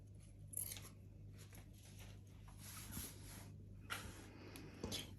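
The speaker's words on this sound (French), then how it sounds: "Je coupe mon biais." Scissors snip through fabric bias binding at a sewing table. Several quiet, close cuts arrive in short bursts over a faint steady hum, with no talk.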